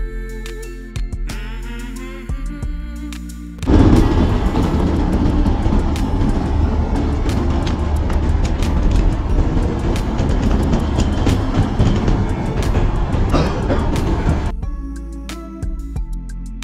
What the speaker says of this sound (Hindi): ट्रेन चल चुकी है और बाहर अभी भी अंधेरा है